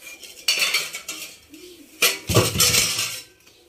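A small kitchen pot is set down into a sink basin, giving a couple of sharp metallic clanks and rattles of dishes and cutlery, close and fairly loud, with no speech.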